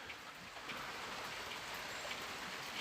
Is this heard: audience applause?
no